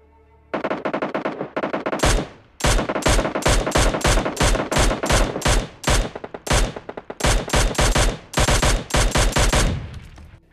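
A Mini14 rifle fires rapid, loud, close bursts of sharp shots in the game PUBG Lite, repeated volleys with short gaps and no talk.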